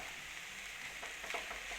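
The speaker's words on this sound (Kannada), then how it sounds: "ಈಗ ಇದು ಒಗ್ಗರಣೆ ಒಳಗೆ ನಾ ಅನ್ನ ಆ್ಯಡ್ ಮಾಡ್ಕೊಳತ್ತೀನಿ ರೀ." Steady faint sizzle of cooked rice frying in hot tempering in a pan for vegetable fried rice, a continuous hiss with slight stirring swells.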